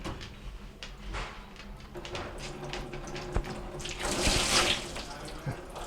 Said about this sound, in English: with the water in there we're definitely going to have water coming out